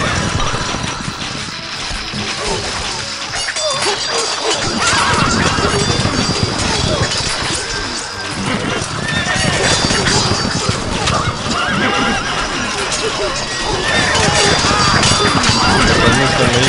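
Horses are let out during a castle siege in the strategy game Stronghold, with repeated neighing and whinnying over a constant drumming of galloping hooves, dense battle noise all around and someone talking over it.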